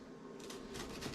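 Knife cutting thin slices from a large halved onion, a run of soft, rapid crisp cuts close by on a board, with no talk.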